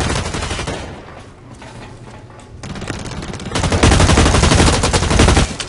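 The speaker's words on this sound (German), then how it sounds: "aber hier wird geschossen" Gunfire in the video game Blacklight Retribution: loud, dense bursts of automatic shooting that thin out briefly, then return heavier and sustained toward the end.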